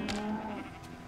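A single sheep in the video game Minecraft gives a short, close bleat with a wavering tone that fades quickly.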